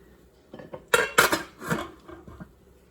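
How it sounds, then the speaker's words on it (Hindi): Karhi being served from a cooking pot into a dish, with a few close metallic clinks and scrapes of a ladle against the pot and dish, brief and uneven, with no talking. "अब मैं इसको डिश आउट करके आपको दिखाती हूँ।"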